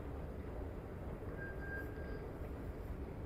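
Riyadh metro train at a station, a steady loud rumble of the carriage with a brief whining tone rising mid-way, continuous throughout with no talk.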